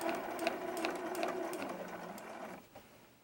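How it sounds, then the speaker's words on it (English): A sewing machine runs steadily close up as it stitches a quilt block seam with a short backstitch, its rapid even whir and needle ticks continuing for a few seconds before stopping abruptly. "I'm going to do a little back stitch"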